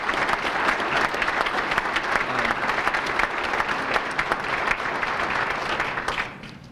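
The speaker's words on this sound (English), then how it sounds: "I think we need to give her a round of applause as well." Audience applause at a university athletics hall of fame ceremony, a full round of sustained clapping from a large crowd with sharp individual claps standing out, tapering off at the very end.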